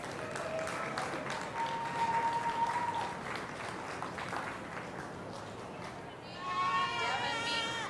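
An audience at a 2019 goat show claps for the exhibitors, a dense, moderately quiet spread of applause with a short pitched tone and an announcer's voice over parts of it.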